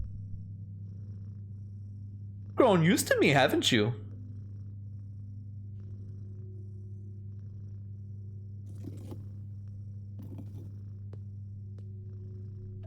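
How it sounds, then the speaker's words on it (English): A pet cat purring as it is gently stroked in the video game No Longer Home, a brief soft purr burst lasting about a second, heard around a short line of speech. "Ooh, it's purring."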